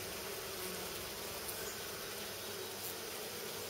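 Honey bees buzz around a hive frame full of honey and pollen in fall, a continuous close, even drone with no pauses.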